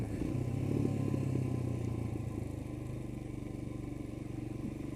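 A Royal Enfield Himalayan motorcycle on semi-knobbly CEAT adventure tyres is ridden through corners, its single-cylinder engine giving a close, steady thumping drone that swells and then eases slightly.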